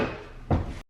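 A kitchen drawer is pulled open, giving one short, dull wooden thud at close range against faint room background.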